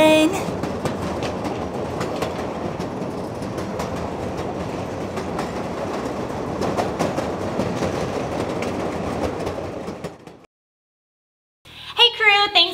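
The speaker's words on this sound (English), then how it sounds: "There goes the train." A train rumbles past with rhythmic clickety-clack, loud and sustained, then fades to silence before a short burst of music.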